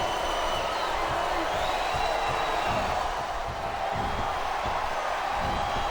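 A packed arena crowd in the WWE SmackDown vs Raw 2008 video game roars as a steady, dense wash of cheering, with faint thuds and whoops rising from the noise.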